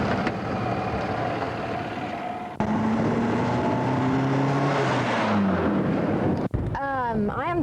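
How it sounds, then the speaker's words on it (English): A Ford Fiesta 1.1 driving, a steady engine and road drone heard from inside the car, with rising gear whine and a brief change in tone near the end. "I am driving a Fiesta"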